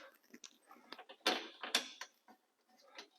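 Bolts being worked loose on a new Exmark Commercial 21 battery-powered mower, heard as a few faint mechanical creaks and ratcheting clicks, with two louder scraping bursts in the middle.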